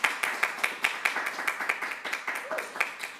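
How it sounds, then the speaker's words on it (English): Sparse clapping from a small conference audience at an AI event, a steady rhythm of distinct claps that thin out over about three seconds, moderately near and fairly quiet. "can we give the mentioned and the unmentioned, both here and at home, a big round of applause"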